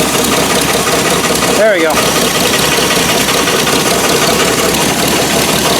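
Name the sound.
Rambler car engine running on its own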